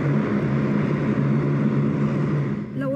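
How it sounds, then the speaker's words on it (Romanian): A Spartan military transport airplane landing on the runway at Otopeni air base, its propeller engines giving a steady, loud drone with a constant hum throughout and a slight shift near the end. "avionul militar Spartan a aterizat pe pista bazei 90 din Otopeni"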